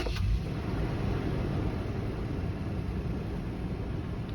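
A truck engine idles steadily just after its throttle body has been cleaned, running slightly high, a constant low rumble that stays even and close throughout with no voices.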